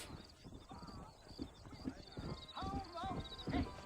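Rhythmic hoof clip-clop of a horse approaching in Red Dead Redemption, mixed with a whinny and game sound effects, while a person talks over it.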